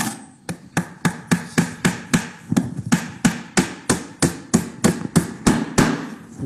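Hammering in a steady run of about twenty sharp strikes at an even pace, close and loud, each blow ringing briefly before the next.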